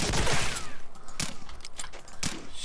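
An MG44 machine gun in Medal of Honor Allied Assault fires in short bursts of sharp, close shots, with a few distinct loud cracks standing out over the rattle and no speech.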